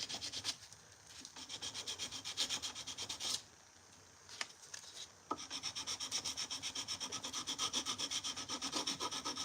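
A knife blade is hand sanded with 220 grit sandpaper, giving quiet, close rhythmic scratchy strokes in runs of rapid back-and-forth rubbing, broken by brief pauses and a few sharp knocks.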